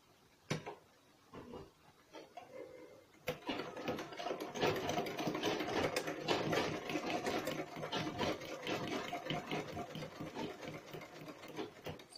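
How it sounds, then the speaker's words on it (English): Sewing machine stitching pieces of a corset top, starting with a few clicks and handling noises before settling into a continuous close whirring run of stitching. "So I'll be picking one part and I will sew it back."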